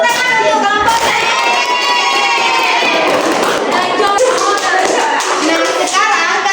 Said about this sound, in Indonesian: Tepuk tangan untuk kelompok saya.